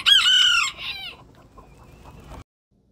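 Small, tiny rooster crowing up close, a loud strained call lasting under a second, followed by a few quieter clucks and shuffling before it cuts off.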